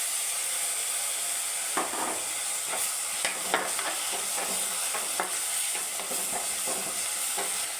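Blended tomatoes sizzle in hot oil in a pan with chilli and curry leaves for a Kottayam-style fish curry, a steady frying hiss broken by scattered stirring scrapes and clinks, close and moderately loud with no talk.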